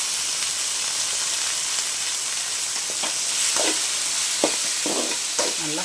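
Boiled and drained elephant foot yam sautéed in oil with a steady close sizzle, broken by several scraping stirs of a spoon in the pan; no talk.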